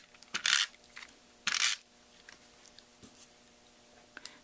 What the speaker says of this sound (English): My tape runner here again.